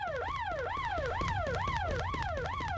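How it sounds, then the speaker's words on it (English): A wailing alarm siren blares in the Hard Time prison video game, rising and falling in a fast repeating cycle, loud and continuous with no talk over it. "People are trying to sleep, not listen to alarms blasting in their ears!"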